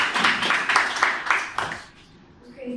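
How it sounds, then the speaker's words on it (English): A class of young students in a Prep 1 English lesson claps for a classmate, a short burst of scattered, fairly close applause with quick rhythmic claps that tails off after about two seconds. "Clap for Hannah."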